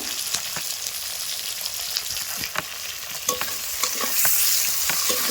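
Onion, capsicum and chopped tomato fry in a pan for a cauliflower and crab curry, giving a continuous sizzle broken by frequent spatula scrapes and clacks. The sizzle swells louder near the end.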